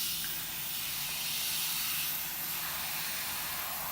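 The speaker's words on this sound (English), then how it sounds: "that's just the right amount of paint coming out of that airbrush for that mist coat" Dual action gravity feed airbrush spraying a fine paint mist, a steady continuous airy hiss held at even strength throughout, close up with no talking.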